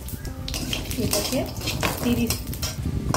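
Cumin seeds, dried red chillies and bay leaves frying in a little hot oil, with close metal pots and utensils clattering and a spatula stirring continuously over the sizzle.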